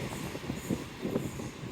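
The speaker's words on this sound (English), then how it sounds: "Train number 1, oh yes." A train passing near a river beach area, a steady rumbling roar with faint rhythmic wheel clatter, heard briefly at moderate distance.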